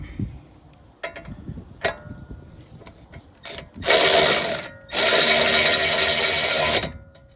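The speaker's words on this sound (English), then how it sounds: "now I'm gonna use the power tool." A power tool tightening brake bolts on a Dodge Durango whirs in two sustained bursts, about a second and then two seconds long, loud and close, with scattered clicks and clanks between them.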